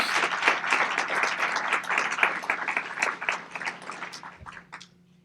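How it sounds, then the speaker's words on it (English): An audience at a community event about the Family Peace Center opening in downtown Rockford gives a brisk round of applause, dense, close clapping that gradually tapers off and stops. "It should be a huge round of applause to the community who are taking this so seriously."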